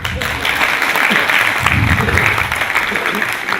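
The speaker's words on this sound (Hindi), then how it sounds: "तालियां तो मारो।" An audience at a devotional gathering bursts into sustained applause, a dense wash of clapping that runs steadily for several seconds with no break.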